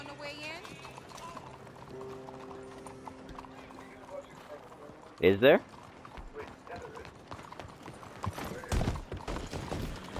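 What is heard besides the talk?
horse hooves from a video game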